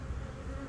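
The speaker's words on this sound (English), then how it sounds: "Lots of drones, lots of worker bees," Honey bees buzz around a hive frame of drones and workers, a dense, steady, close hum that fills the moment without pause.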